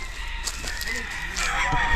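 Chickens cluck and a rooster crows in a busy poultry farm in the Philippines with black and white fowl, with people talking nearby among the birds.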